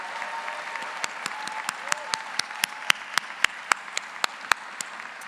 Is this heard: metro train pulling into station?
no